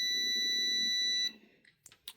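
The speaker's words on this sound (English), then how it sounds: "Yeah, I got a freaking carbon monoxide beeper back there." A carbon monoxide detector mounted near a dryer sensor emits a steady, piercing electronic tone for about a second, then cuts off, leaving a few faint clicks and small sounds in a quiet room.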